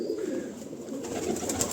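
Pigeons cooing softly in a rooftop coop during rain, a steady low murmur of overlapping calls with no talk.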